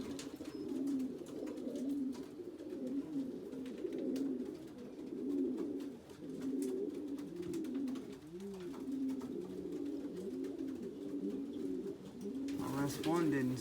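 Racing pigeons coo steadily in a loft after returning from a 150-mile race, a low continuous burbling chorus close by, with a voice talking at times and a brief chirpy flutter near the end.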